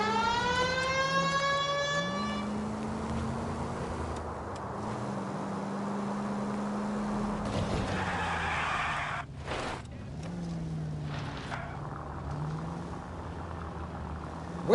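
A police car siren from the game L.A. Noire wails briefly at the start, then gives way to a revving car engine drone with tire squeals and skids as the car races on.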